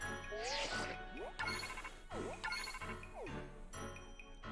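A bright tinkling jingle with rising and falling chime sweeps plays as the Kitakami Pokédex update notification in Pokémon Scarlet Violet, looping over steady game music for several seconds.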